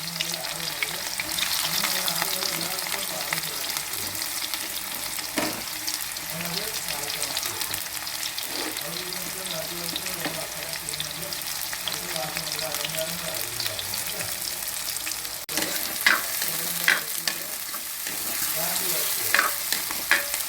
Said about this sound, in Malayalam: അതിലേക്ക് ഞാൻ അരിഞ്ഞു വെച്ചേക്കുന്ന സവാള അങ്ങോട്ട് ഇട്ട് കൊടുക്കുകയാണ്.